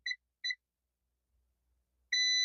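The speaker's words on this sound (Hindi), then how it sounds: "तो इस एरिया में ये बीप मार रहा है।" A multimeter's continuity buzzer, probing a smart LED TV motherboard, gives two short quick beeps, then silence, then a longer sustained tone at the end. It sounds clear and alone.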